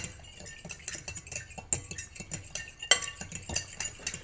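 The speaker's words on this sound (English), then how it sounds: "Let me whisk it. Do a little bit of whisking here." Whisk or utensil clinking and scraping in a bowl while making a stuffed squash and maple roasted Brussels sprouts meal, with quick repeated taps and stirring strokes at close range, no talking.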